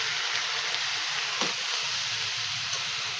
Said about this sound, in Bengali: এবার এটাকে আমি ভালো করে কষিয়ে নেব বা ভেজে নেবো